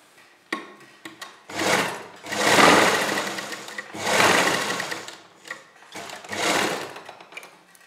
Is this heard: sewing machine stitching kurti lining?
yes